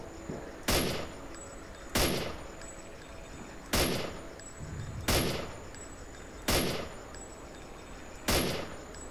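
Handgun fire in the shooter game S.T.A.L.K.E.R. Clear Sky, six sharp single shots spaced roughly one to two seconds apart, each with a short echoing tail.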